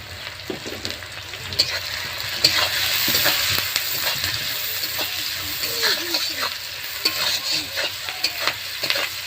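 Small mixed fish frying in a pan with chopped onion, salt and turmeric, a steady close sizzle broken by scrapes and clinks of stirring, with no talk.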